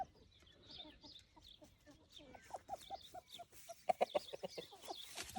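Hens from a backyard French poultry flock, including a Pierrepont-bred bird, cluck in short, repeated bursts at close range, growing louder and busier toward the end.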